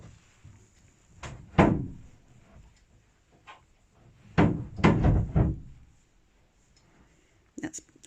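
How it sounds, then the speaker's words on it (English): Clunks, knocks and slams from the back hatch of a narrowboat being opened on the Thames come in irregular clusters, fairly close, over a quiet background. "That's the sound of Peter opening up the back of the boat, ready for cruising today."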